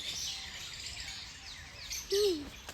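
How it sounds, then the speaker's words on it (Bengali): Small birds chirp in an aviary at a deer park, with faint high tweets against a steady background hiss and one brief, clearer whistled call near the end. "এবার এখানে ছোটোখাটো অনেক পাখি আছে"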